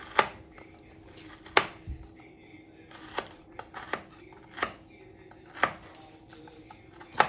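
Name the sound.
knife chopping turnip into little pieces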